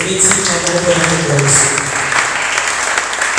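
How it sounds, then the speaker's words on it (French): A church congregation applauding for Jesus during a prayer service, loud sustained clapping with cheering voices mixed in throughout. "Acclamons pour la gloire de Jésus."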